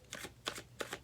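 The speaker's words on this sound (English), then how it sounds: "I'm going to pull a couple more cards to" Tarot cards are shuffled quietly up close in three quick, soft riffling bursts within about a second.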